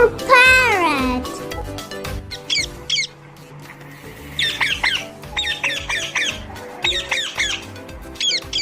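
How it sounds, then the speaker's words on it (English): Shrill, repeated parrot squawks in a children's alphabet nursery rhyme arrive in quick bursts over a steady musical backing, with a voice singing or speaking between them. "P for parrot."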